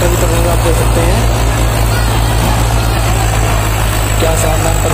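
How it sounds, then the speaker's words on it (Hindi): A Massey 245 PD and a Swaraj 744 FE tractor, each pulling a 7ft rotavator, drone with a loud, steady diesel rumble that fills the whole stretch, while someone talks over the engines. "दोस्तों ट्रैक्टर की परफॉर्मेंस आप देख सकते हैं"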